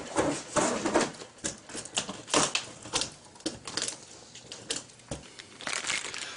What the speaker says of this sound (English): I'm just going to go ahead and cut through the tape.